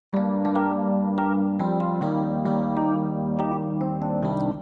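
Sustained 80s-style synth chords with extra higher notes layered on top change every half second or so, full and steady at moderate loudness with no voice.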